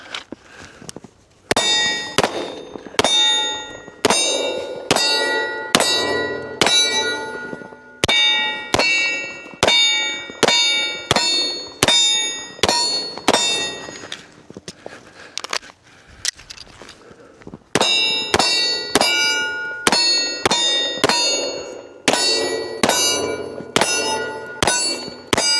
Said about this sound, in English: We'll go through one magazine, transitioning back and forth, just taking shots at evenly spaced intervals